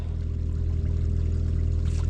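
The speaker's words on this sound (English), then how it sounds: "We got a clay line that's pouring out of it." Water pours steadily out of a clay drain tile line into a dug ditch, a loud constant rushing gush with a deep low-end rumble, no talking.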